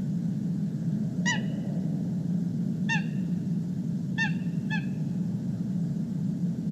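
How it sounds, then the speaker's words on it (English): A coot gives flight calls, recorded at night: four short, honking calls at uneven spacing, set well apart against a constant low rumble of background noise. "Anyone who starts recording will soon record flight calls of the coot that you just heard"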